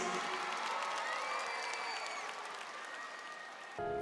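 A concert audience gives steady, dense applause for the singer's father, with faint musical tones underneath. The clapping stops abruptly near the end.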